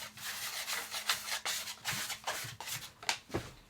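Sourdough loaf shaped by hand on a floured surface aboard a narrowboat, soft rubbing and shuffling strokes of dough dragged across the board in a steady rhythm, close and fairly quiet, with no talking.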